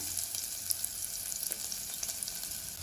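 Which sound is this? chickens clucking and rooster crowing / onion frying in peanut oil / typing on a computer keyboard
onion frying in peanut oil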